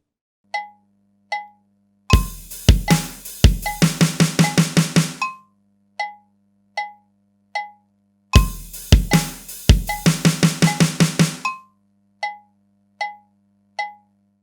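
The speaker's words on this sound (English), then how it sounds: "then we're going to play the 7-stroke roll on the snare" Metronome clicks tick steadily at 77 BPM while a drum kit plays a short pattern ending in a quick seven-stroke snare roll, heard twice with clicks between.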